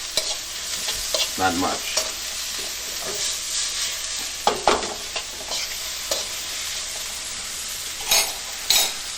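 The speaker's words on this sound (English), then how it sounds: "So we're going to saute this, lower the heat just a little bit." Vegetables and onion sautéing in a pan over lowered heat, a soft continuous sizzle broken by spoon scrapes and a few sharp clinks against the pan; a brief spoken remark.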